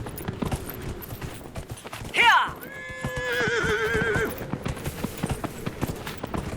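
In the video game Dragon Age: Inquisition, a horse gives a sharp, clear whinny, followed by a long, wavering neigh over faint, scattered hoof clops and background game noise.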